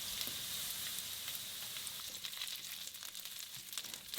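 Garlic, onion and carrot frying in a little oil in a wok over medium heat, giving a steady, quiet hiss with faint crackles throughout, no voices.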